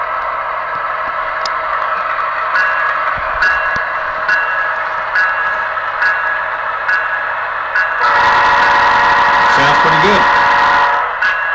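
A model-railroad Intermountain GEVO diesel locomotive with an upgraded sound decoder runs its engine, a steady droning rumble with tonal hum, growing louder and rougher as it revs up toward the end.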